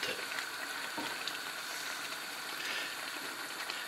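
Coarsely chopped cuttlefish and baby squid frying in a hot pan of half-cooked seafood soup, a steady close sizzle and bubbling hiss running evenly throughout with faint stirring clatter.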